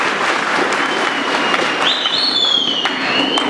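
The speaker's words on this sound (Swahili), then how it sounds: "Pigeni makofi basi." Sustained audience clapping at a school ceremony at Mbalizi High School, dense and steady throughout, with a thin high whistle-like tone rising partway through.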